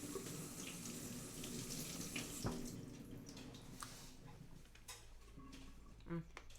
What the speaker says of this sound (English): I usually don't like blackberries, so I'm just giving them a quick rinse